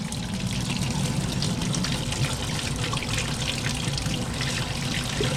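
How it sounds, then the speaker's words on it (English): Scalding hot water pours from a tap into a wash tub in a laundry room, making a steady, loud rushing splash that continues throughout. "I just get scalding hot water, get as hot as it goes,"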